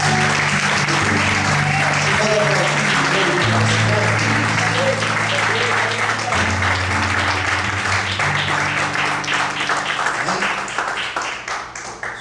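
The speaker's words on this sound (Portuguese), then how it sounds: "Você pode aplaudir ao Senhor Jesus." Church congregation claps steadily and loudly for several seconds, with sustained tonal music or voices under the applause before it tapers off near the end.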